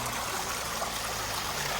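Clean, cold water flowing along an irrigation ditch (aryk) beside a street, a steady close-up rushing trickle that continues without a break.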